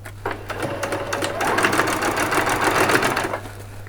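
A sewing machine runs a straight stitch for a party dress, then reverses into a back stitch; the steady, fairly loud needle rattle carries on for several seconds with a low hum beneath, no talking.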